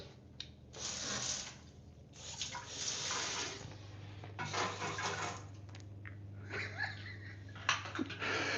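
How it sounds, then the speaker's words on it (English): Water hissing from a handheld bidet spray hose beside a toilet in a Dubai bathroom, coming in several bursts with short gaps between them and a steady low hum underneath. "you just go to any bathroom in Dubai, it's got this little spray thing"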